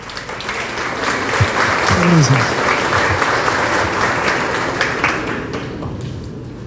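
A scientific meeting audience gives a scientist sustained, even applause that stays loud for several seconds, with a brief spoken thanks from a nearby voice.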